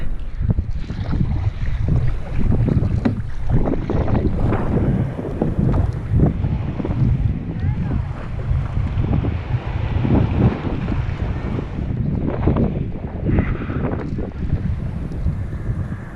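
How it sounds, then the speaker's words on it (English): Big ocean waves and strong wind surround a kayak off the Mokulua Islands, Oahu, heavy gusts buffeting the microphone in a constant rumbling roar with waves surging and splashing throughout. "There's big waves out here."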